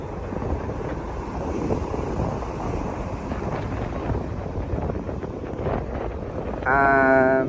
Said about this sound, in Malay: Ombak sama tinggi.